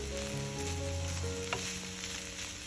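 Meat frying with tomato in a pan gives a steady sizzle throughout, with faint stirring clicks and a low tonal hum underneath. No one talks.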